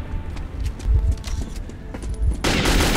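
Gunfire in the first-person shooter Metro 2033, with scattered shots and bursts of automatic fire cracking through a noisy battle mix, ending in a louder sustained rush of sound.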